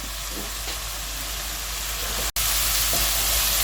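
Egg fried rice tossed in a wok over a high flame gives a steady, loud sizzle that holds throughout, broken by one abrupt silent gap midway before the frying hiss resumes.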